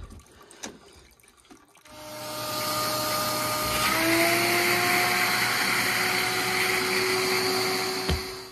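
Vacuum cleaner running during HVAC thermostat service, starting up around two seconds in and holding a steady, loud whine with a rising tone, after a quieter stretch with handling knocks.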